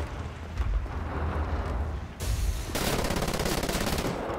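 Rapid automatic gunfire and heavy blasts ring out in the shooter game Wolfenstein: The New Order. The bursts are loud and sustained, with a denser stream of shots in the second half.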